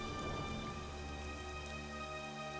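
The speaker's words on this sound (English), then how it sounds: "Should she be out in the rain?" Steady rain falling in the video game Xenoblade Chronicles 2, a soft continuous hiss of drops on surfaces, quiet and even throughout.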